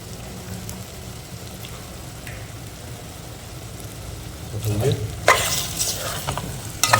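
Potato kulambu being stirred in a pot with onions cooking in oil, a steady low sizzle under soft scraping, then louder clattering stirs near the end.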